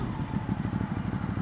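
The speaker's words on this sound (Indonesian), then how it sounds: "Suara knalpotnya juga enak loh, walaupun standar." A standard exhaust on a Kawasaki KLX 500 motorcycle runs at close range with a steady, pulsing low-pitched engine rumble and no talk over it.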